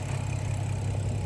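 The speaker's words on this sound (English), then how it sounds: "the engine is running good" A rebuilt N55 engine in a BMW 535i idles at operating temperature with a steady, low, even hum, heard alone and close for a brief moment.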